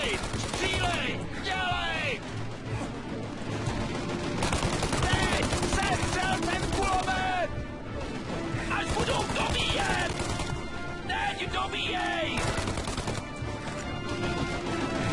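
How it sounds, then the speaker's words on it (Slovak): Gunfire in Mafia: Definitive Edition, a dense run of rapid shots and clattering impacts over a loud game mix, with a voice talking over the action throughout. "Ja môžem proste do nich strieľať a im to nič proste dokopy nespraví"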